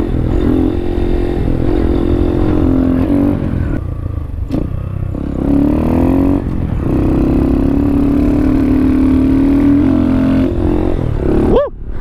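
Honda Grom motorcycle in second gear accelerating for a wheelie, its small engine droning loud and close, dipping and climbing in pitch with a rising rev at the finish, over wind and clatter.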